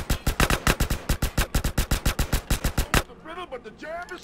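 Rapid gunfire in Grand Theft Auto: San Andreas, a burst of about twenty loud, evenly spaced shots lasting three seconds, then quieter game sounds.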